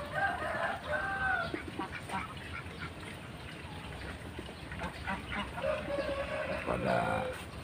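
Chickens clucking and a rooster crowing among ducks and muscovy ducks at a rural village poultry yard, with bird calls rising and falling over steady outdoor background noise for several seconds.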